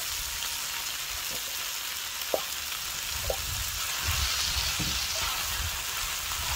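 Eggplant and ground chicken stir-frying with basil in a pan, giving a steady close sizzle with a few soft spatula taps and scrapes, no voices.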